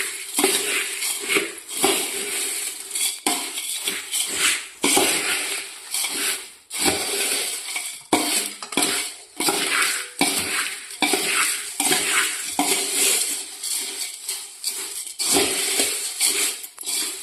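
Chivda snack being stirred and tossed in a pan, a continuous loud scraping and rattling of dry flakes against metal, with rhythmic sweeps close up and no voices.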